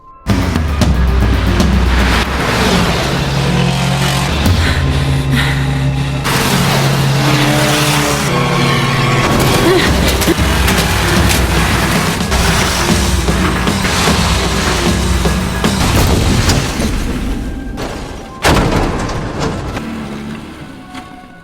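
A car in a film crashes down into a ravine and overturns, heard as loud, continuous vehicle and crash noise with skids and impacts throughout, with no talking.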